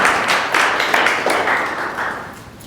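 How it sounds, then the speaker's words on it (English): A meetup audience claps in a short burst of applause lasting under three seconds, a dense patter of hands that stays fairly even and fades slightly at the end. "Can we get a round of applause?"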